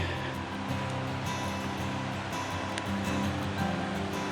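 Steady broadband rush of the Middle Fork Blacks Fork river running below a muddy mountain trail, heard from a distance as a constant, even wash with no breaks.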